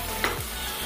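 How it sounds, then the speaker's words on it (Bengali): Chicken pieces fry in a pan with no water added, giving a continuous close sizzle with a brief stir partway through, for a Chinese-style chicken sizzler dish. "এটাকে ভেজে ভেজে রান্না করব, কোনো জল দেব না।"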